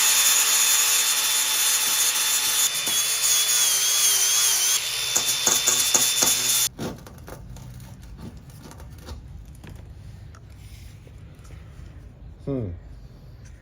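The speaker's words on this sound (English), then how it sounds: "So we'll grind that back now" A power grinder works rust off the metal of an Amazon delivery van, loud and close with a harsh whine for several seconds, then cuts out into quieter scraping and handling.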